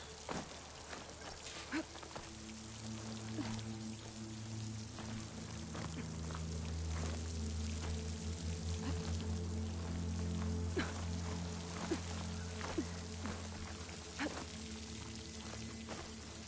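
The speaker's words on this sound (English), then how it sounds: "The water's flowing into the wall." Water flowing and pouring into a rock wall in Horizon Forbidden West, a steady splashing trickle with droplet-like spatters, layered under low sustained game music.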